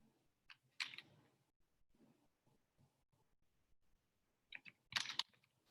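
Clicky computer keyboard typed in short bursts, close and fairly quiet, with louder clustered clacks near the start and end and softer scattered keystrokes between.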